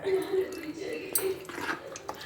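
Avakaya mango pickle is mixed with oil in a bowl, a spoon scraping and clinking against the dish in quick, uneven strokes, close by, with a voice faintly present.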